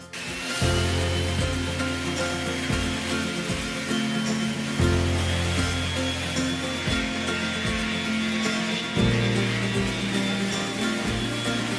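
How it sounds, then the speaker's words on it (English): A power sander grinds steadily on wood, a loud continuous whir with short pauses and restarts as it is lifted and set down again. "grab your sander and let's get sanding"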